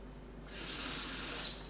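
Water runs from a kitchen tap into a sink while food is rinsed, a brief soft splash that swells after a quiet start and holds steady.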